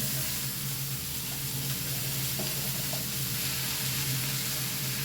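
Ash gourd pieces frying in a pan, a constant soft crackling sizzle with a low hum underneath and a few light taps, close by with no talking.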